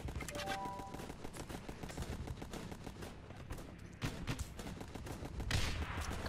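Rapid, sustained gunfire from the Guns Up video game, a steady rattling fusillade of many shots that continues throughout with a louder burst near the end.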